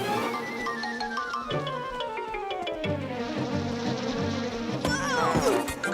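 A cartoon honeybee buzzes in a steady insect drone that slides slowly downward in pitch under light background music, ending with a brighter burst of sound.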